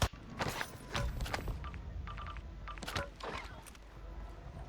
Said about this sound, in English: Yeah, you hear the footsteps right there